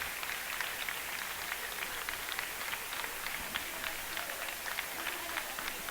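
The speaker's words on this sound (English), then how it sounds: "A big round of applause from the Cougar fans." Cheering and applause from Cougar fans at a varsity boys high school basketball game, a steady crowd roar with scattered clapping and shouts throughout.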